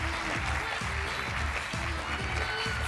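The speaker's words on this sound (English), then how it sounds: "Give these folks a round of applause." Audience applause for award winners at the 2019 Convergence Rave Awards, a steady dense clapping that fills the room without a break and has no voices over it.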